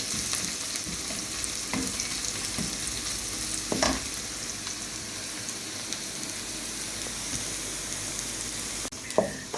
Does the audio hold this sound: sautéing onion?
yes